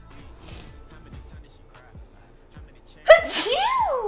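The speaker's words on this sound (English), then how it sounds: "I've now sneezed." A single sharp sneeze bursts out near the end, loud and close, after a quiet stretch with faint background sounds.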